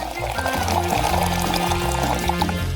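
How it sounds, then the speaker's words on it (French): Water poured into a container during a Coca-Cola hack test, a steady close filling stream with rising gurgles that runs without a break, with music playing underneath. "Maintenant, on va verser de l'eau."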